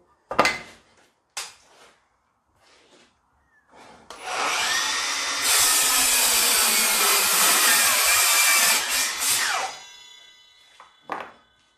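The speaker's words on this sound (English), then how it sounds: "I'm just going to perform a compound mitre cut with this hardwood timber." A Milwaukee Fuel 184 mm sliding compound mitre saw, battery powered, spins up loudly and cuts a compound mitre through dense hardwood timber for several seconds, the blade whine rising and straining before winding down, with knocks of handling before and after.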